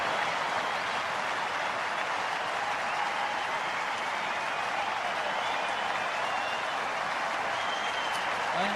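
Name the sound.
cricket crowd applauding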